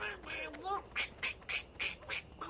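A voice imitates Donald Duck with a run of short, raspy quacking bursts in a quick, rhythmic series, close and clear.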